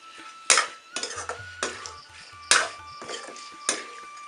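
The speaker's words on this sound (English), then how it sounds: "So at the moment I'm just stirring my meat, so until it's brownish red" Meat cooking in a pot in a Nepali village kitchen is stirred with a metal utensil, giving a series of sharp clanks and scrapes against the pot at irregular intervals, close and fairly loud, with a low hum beneath.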